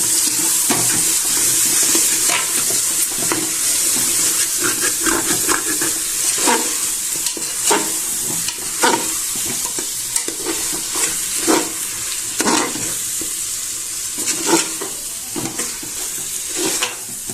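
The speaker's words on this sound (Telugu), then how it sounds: "పుదీనా, పచ్చిమిరపకాయలు అన్నీ వేసుకుందాం. ఒకసారి కలుపుకుందాం." Mint, coriander and green chillies being stirred in a large chicken dum biryani pot, with repeated scraping ladle strokes over a steady, fairly loud sizzle.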